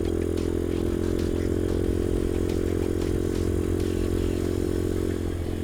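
A dirt bike rides through traffic in second gear, its engine holding a steady, loud mid-pitched drone up close, with light clattering and rattling over the top and no talk.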